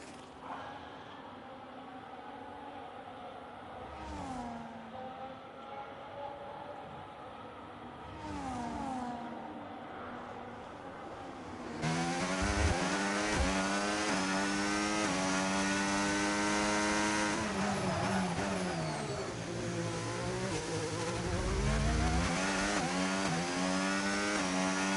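A race car engine on a warm-up lap on medium tyres in a racing video game drones steadily, then swells louder and more raspy at mid-clip, its pitch rising and falling with gear changes and throttle.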